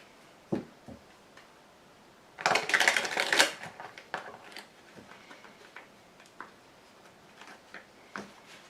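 A tarot card is laid down on a table, a quiet tap among soft scattered clicks, followed by a short burst of shuffling and rustling cards in the middle and then a few more light ticks.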